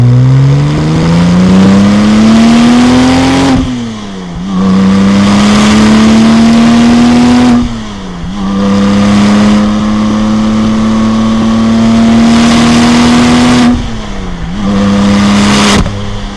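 A Porsche 996 Turbo Cabriolet with a 6-speed manual, driven on a wet road, revs loudly and close up in three rising pulls, each broken by a brief dip in pitch at the gear change, with no talking.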